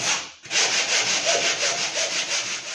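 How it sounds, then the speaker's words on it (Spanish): Sandpaper rubbed back and forth to remove fiberglass burrs on a wooden kayak, a rhythmic, close scratching with several even strokes after a brief pause. "un poquito de lija para quitar las rebabas de la fibra de vidrio"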